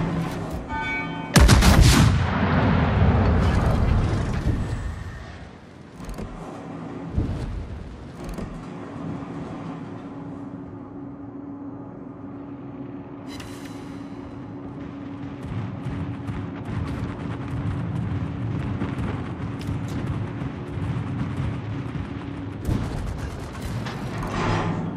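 Battleship naval gunfire in the World of Warships video game, as the Ohio battleship fires a heavy, booming salvo early on, followed by a long rumbling, creaking drone of the ship and distant battle noise.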